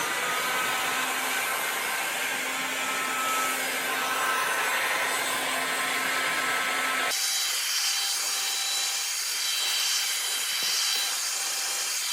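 Heat gun blowing hot air onto a Showa big piston motorcycle fork part on a KTM-style EBR 1190, a loud continuous hiss and whoosh that shifts in tone partway through as the nozzle moves.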